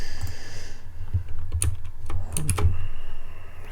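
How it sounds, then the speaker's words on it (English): Close, brisk typing on a computer keyboard: irregular bursts of clicky keystrokes over a low steady hum, with no talking. "let me see if I can do that with this keyboard."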